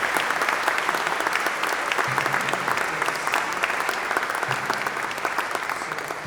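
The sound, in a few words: audience applause for the concert band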